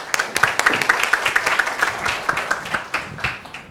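A conference audience applauds to welcome a speaker onto the stage, a steady, even stream of claps at moderate volume that carries on briefly without any voices.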